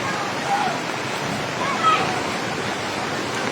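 Strong floodwater current rushes past in a steady, broad roar of churning water, close and loud throughout the few seconds with only slight swells in intensity.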